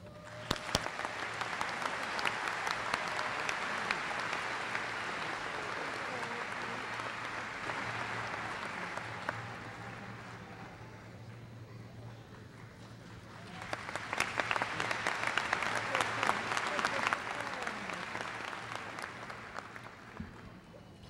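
Commencement audience at Springfield College applauds honorary degree recipients. Two long waves of dense clapping fill a large space, easing off in the middle before swelling again, and there is no talk over them.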